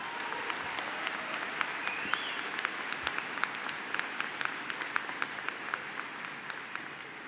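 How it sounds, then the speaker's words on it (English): Sustained applause from a large outdoor commencement audience at Denison University, many hands clapping steadily at a distance with occasional sharper nearby claps. "Can we give her one more round of applause?"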